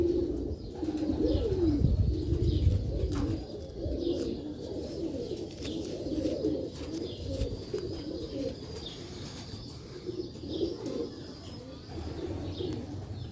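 Pigeons on a rooftop in Sialkot coo in soft, repeated low rolls, close and continuous, with several birds overlapping and faint chirps and a little background noise.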